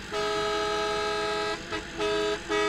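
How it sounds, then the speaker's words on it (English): Car horn in the DayZ video game honking in a steady blare of about one and a half seconds, then three shorter toots, loud and close, with no talk over it. "give it a honk then"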